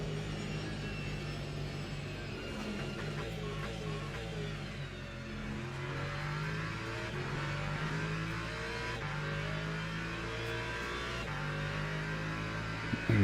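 Race car engines drone in a Le Mans racing video game after the 1.3.3 update. The steady, tonal engine whine holds at moderate volume and shifts pitch slightly as the cars run, with no voices.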